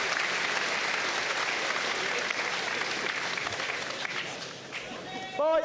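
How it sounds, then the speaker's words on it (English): A crowd at an amateur military boxing match between UK and US paratroopers applauds the fighters with steady, loud clapping that eases slightly near the end before a brief louder burst and a voice. "Again, applause and respect for both boxers."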